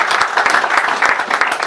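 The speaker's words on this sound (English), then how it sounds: "Round of applause." An audience at an Asian Business Association 20th anniversary celebration breaks into steady, dense applause, a loud wash of many hands clapping without pause.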